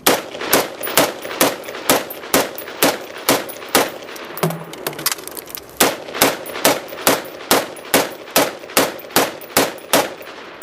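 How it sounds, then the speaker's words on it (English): Rapid gunshots ring out at a steady pace as a shooter empties two 10-round magazines at an array of targets, with sharp, loud cracks evenly spaced and a brief pause midway for the reload. "Now we'll shoot the same target array with 2 10-round magazines."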